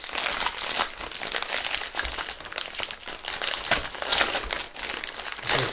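Plastic wrappers on Cadbury Crunchy Melts cookies are torn open and crumpled, giving loud, continuous crackling and crinkling close by with a few sharper rips.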